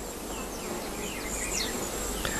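Oil-collecting bees buzz in hectic flight around Stigmaphyllon flowers, a steady close insect drone with several overlapping wingbeat whines rising and falling as individuals pass near, over faint outdoor background.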